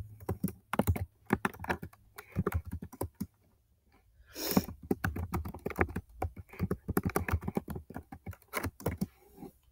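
A name being typed on a computer keyboard: bursts of quick, close key clicks with short pauses between words, moderately loud, no voices.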